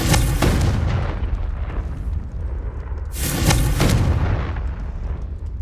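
Two heavy, booming fire-spell explosions go off in a Hogwarts Legacy game battle, about three seconds apart. Each blast bursts loud and then rolls into a rumbling decay.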